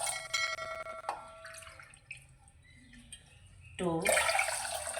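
Water is poured into a pan of sugar to make syrup for sooji halwa. Quiet clinks come first, then a rising, gurgling pour and a louder splashing burst near the end.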